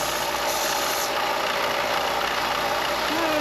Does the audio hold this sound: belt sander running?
yes